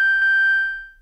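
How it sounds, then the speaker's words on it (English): A Behringer Pro VS Mini synthesizer in vintage mode sounds a single bright, buzzy tone thick with harsh aliasing overtones, sustained alone and fading out over about a second. "you can hear some crazy aliasing"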